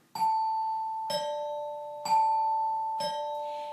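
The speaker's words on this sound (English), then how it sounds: "So I've got my resonator bells on." Resonator bells ring out in a slow two-note pattern, four clear struck tones a second apart, each sustaining and gently fading, played alone in a quiet room.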